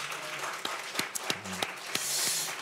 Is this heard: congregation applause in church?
yes